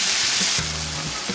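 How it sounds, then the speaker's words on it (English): Beef, corn and rice fry in a pan, a steady close hiss of sizzling oil with a brief low hum partway through, loud and continuous without talk. "Let it fry. Mix it with that cute corn. Let it fry, let it fry"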